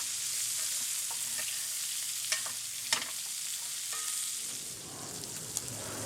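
Butter and garlic sizzle steadily in a pan with venison as it is basted, the spoon tapping and scraping the pan in a few sharp clicks over a continuous close frying hiss.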